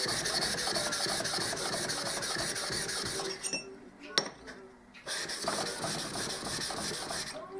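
Hard steel edge of a 70mm kanna plane blade worked on a whetstone, a steady close gritty rasping that runs continuously, breaks off briefly in the middle with a few small taps, then resumes.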